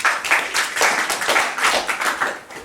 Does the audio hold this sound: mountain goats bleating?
no